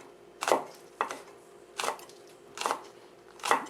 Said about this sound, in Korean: 청양고추도 쫑쫑 썰어 주시면 됩니다